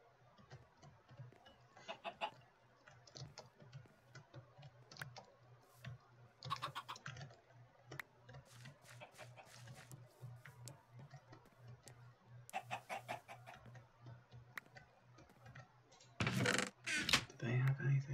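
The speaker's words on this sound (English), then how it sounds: "Can I just kill this chicken?" Chickens clucking in the Minecraft video game, short pixelated clucks scattered among frequent clicking keyboard and mouse sounds, with a louder burst of game effects near the end; a person talks throughout.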